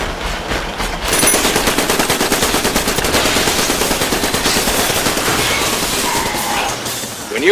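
Rapid automatic shotgun turret fire in the Iron Brigade video game, a dense unbroken stream of loud, evenly spaced blasts running for several seconds after a brief quieter lead-in.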